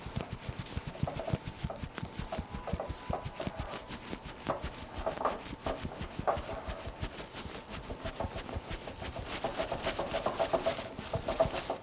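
Gluten-free chocolate cake batter made with almond flour being stirred by hand, a rhythmic scraping and thudding of the spoon against the bowl repeated steadily and close.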